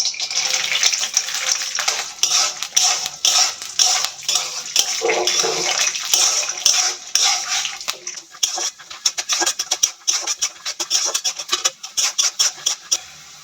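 Peanuts frying in a spoonful of white oil in a hot wok, a bright continuous sizzle broken by rapid crackling pops and stirring that turn sparse and choppy toward the end.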